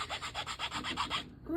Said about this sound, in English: I'm just going to take a file and make grooves with it around like this